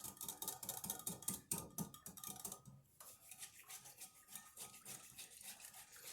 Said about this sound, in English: And you're supposed to whisk that up.